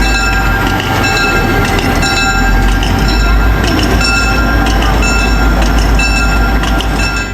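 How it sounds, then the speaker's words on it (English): A powerful snow train runs on rails in harsh winter conditions, a loud, continuous heavy rumble with steady tonal whine and rhythmic metallic clatter throughout. "These are not just trains, they are purpose-built solutions designed to face one of the harshest environments on Earth."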